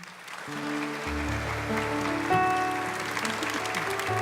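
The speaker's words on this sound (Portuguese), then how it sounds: "Vamos aplaudir a palavra." A church congregation applauds after the Gospel reading at Mass, sustained clapping that grows and blends with organ or keyboard chords. The sound is steady and fills the room, and no one speaks through it.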